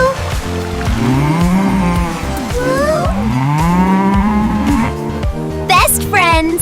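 A cow gives several loud, drawn-out moos that rise and fall in pitch, close by, with brighter higher-pitched vocal sounds near the end.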